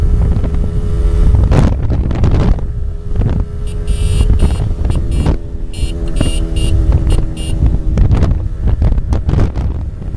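Strong wind roaring across the microphone during a motorcycle ride on rural Congo roads, constant low buffeting with sharp gust bursts and some engine hum beneath.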